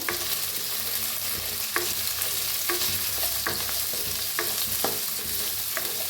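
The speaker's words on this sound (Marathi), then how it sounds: "थोडा कांदा कापून घेतलेला घालूया, लसूण बी अद्रक बी हलवून भाजून घेऊया" Chopped onion, garlic and ginger roast in hot oil in a pan for matar paneer. A loud, even sizzle runs throughout, with regular sharp scrapes from stirring.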